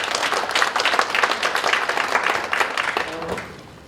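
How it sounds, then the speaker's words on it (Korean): An audience at a policy forum applauds a professor, a dense burst of many hands clapping for a few seconds before fading out, with a brief voice murmuring near the end. "다시 한번 우리 양광식 교수님께 박수 한번 부탁드리겠습니다."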